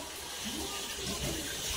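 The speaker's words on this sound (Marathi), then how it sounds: "पाणी भरताय पाणी आलं इथे ड्रम भरला" Water pours into a drum being filled, a close, steady rushing and gurgling flow.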